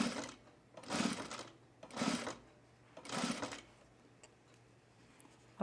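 A sewing machine works on a men's fleece pullover in three short, evenly spaced bursts of stitching about a second apart, fairly quiet and near, then falls silent.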